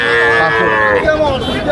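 Cattle lowing at a crowded village cattle market in rural Bengal, with long drawn-out moos close by and overlapping calls from other animals against a constant background murmur.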